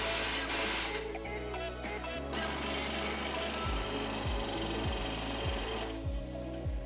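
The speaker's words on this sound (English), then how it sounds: "Start tightening the control arm to the frame and the shock to the control arm." Rear control arm and shock bolts on a 2007-2013 Ford Expedition being driven tight with a rattling impact wrench, a loud continuous hammering chatter with steady pulsing beats that runs close and unbroken for the whole stretch.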